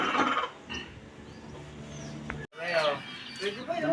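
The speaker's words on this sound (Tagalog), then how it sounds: "Kaya, nag-aagawa na naman sa hapunan ang manok." Chickens cluck and squabble over dinner in a farmyard, short bursts of clucking near and fairly loud, broken by a brief gap, with a person talking over them.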